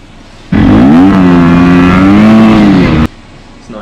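Dirt bike engine revving hard near the microphone in a single loud, sustained burst of about two and a half seconds, rising and falling in pitch, with quiet ambience before and after.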